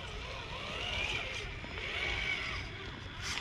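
A Traxxas TRX4 2021 Ford Bronco RC truck crawls uphill in low gear over rough ground, its motor giving a steady, close whirring drone with a buzzy edge that holds throughout.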